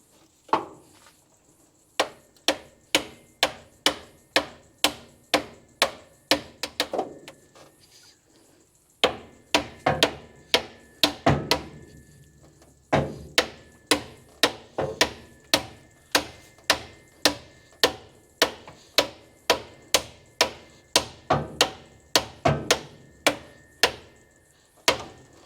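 Hammer blows driving a harmonic balancer onto the crankshaft of a Holden HT engine, dozens of sharp metallic strikes in steady rhythmic bursts with brief pauses between runs.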